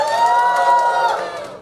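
A crowd at a welfare-society event with hair stylist Jawed Habib cheers and whoops on cue, a loud burst of mixed voices and shouts that swells, then tapers slightly toward the end.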